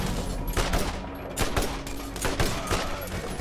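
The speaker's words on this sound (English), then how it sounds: "There's a spot I can shoot him in while still behind cover." Rapid gunfire in the video game Borderlands, dense overlapping bursts of shots cracking loudly and continuously from start to finish.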